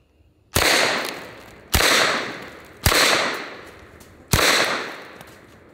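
Four loud shots from a Calico M-950 9mm pistol firing hollow points at watermelons, evenly spaced about a second apart, each a sharp crack with a long echoing decay, no talking.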